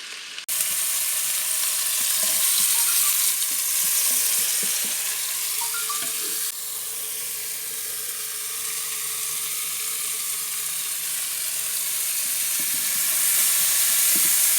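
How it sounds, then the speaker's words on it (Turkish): Mushrooms and meatballs sauté in an Arçelik Gurme Şef electric pot for a vermicelli rice dish, giving a steady, close sizzle and frying hiss with faint stirring clatter throughout, no talk. "Onları da pişiriyoruz, soteliyoruz."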